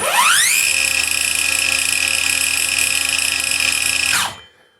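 A cordless brushless circular saw running on a Makita battery spins up quickly, holds a loud, steady high-pitched whine for about four seconds, then winds down and stops.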